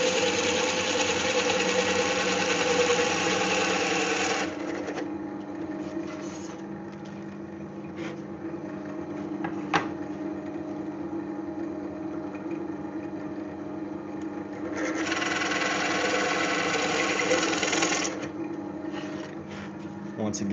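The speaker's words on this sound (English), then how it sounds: "drilling from both sides just leaves such a nice clean hole" A power drill whirs loudly as it bores through a wooden cutting board, drops to a lower hum, then revs up again for a second run from the other side.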